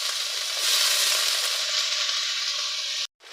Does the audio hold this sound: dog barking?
no